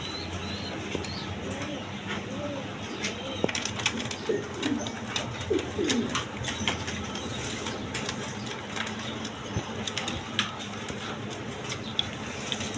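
Domestic pigeons, breeding pairs kept for eggs and chicks, cooing softly in a pet bird sale setting, low murmuring coos scattered over a noisy background with brief clicks and faint voices.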